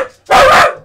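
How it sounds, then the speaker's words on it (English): A dog indoors in an apartment gives a single loud, sharp bark right next to the listener. "He was barking and freaking out in the same way he's freaking out when like a stranger comes into the apartment"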